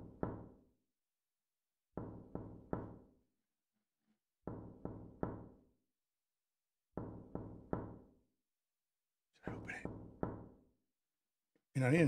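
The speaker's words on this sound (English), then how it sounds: "Oh, somebody's hammering." Hammering in the indie horror game Far Away: sharp knocks in tight groups of three or four blows, repeating at regular intervals with silent gaps between, fairly close and clear.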